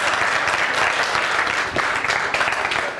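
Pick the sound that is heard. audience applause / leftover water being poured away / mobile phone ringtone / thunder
audience applause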